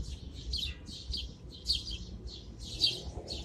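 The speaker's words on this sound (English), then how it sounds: "There we go, lots and lots and lots of birds." Many birds chirp in an urban city setting, bursts of high tweets arriving in quick repeated clusters over a low background rumble, fairly close and clear with no one speaking.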